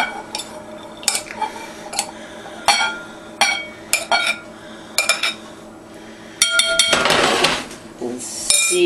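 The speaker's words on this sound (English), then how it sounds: "Let's go ahead and mix barley in." Barley is worked into a salmon cake mixture in a bowl, a metal utensil clinking and scraping against the side in repeated strokes, close and fairly loud, ending with a denser burst of mixing.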